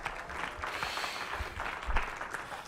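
Audience applause at a live show, a steady wash of many hands clapping that runs throughout at moderate distance, with no talk over it.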